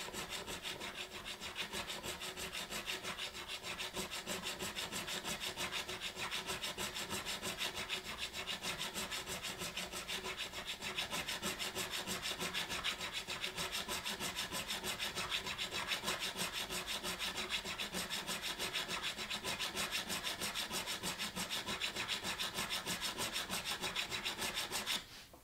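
A metal file reshapes worn frets on a PRS McCarty guitar, making a steady, fast, continuous rasp that keeps a constant level and stays close and loud throughout, with no talking.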